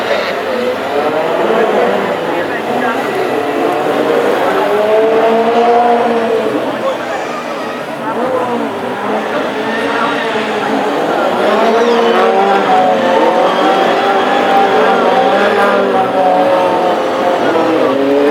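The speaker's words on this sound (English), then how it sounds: "now it's time for the donuts to celebrate the conclusion of racing here at Hednesford for the classic hot rods" Classic hot rod race cars doing celebratory donuts at Hednesford Raceway, engines revving and tires squealing in long wavering howls, with excited crowd or commentary voices mixed in throughout.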